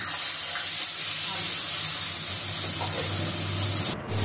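Boiled potatoes go into a wok of hot mustard oil with cumin and asafoetida, setting off a continuous loud hiss and sizzle that stays close and even and briefly dips near the end.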